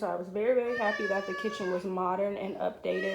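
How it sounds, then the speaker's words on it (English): A male cat meows and whines indoors in a modern farmhouse-style kitchen, repeated drawn-out cries close by, mixed with someone talking over them. "You have to excuse the cat. I don't know what he's whining about."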